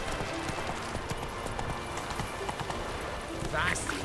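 Roach the horse galloping in The Witcher 3, rapid rhythmic hoofbeats clip-clopping steadily under a man's speech, with a brief higher sound near the end.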